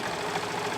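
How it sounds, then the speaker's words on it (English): A sewing machine runs steadily while stitching a neck binding onto stretch fabric, a brief, even motor hum with a faint rhythmic pulse and no talking. "So I'm going to sew and stretch"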